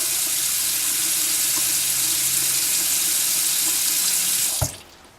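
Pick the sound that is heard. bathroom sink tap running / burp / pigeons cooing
bathroom sink tap running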